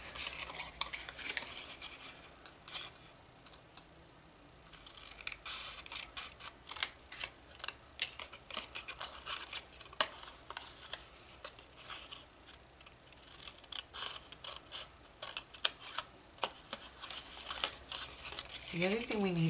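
Scissors snip into a cardboard box with folded-back flaps, irregular sharp cuts and crinkling rustles spread across the stretch, close but fairly quiet, with a voice talking over parts of it.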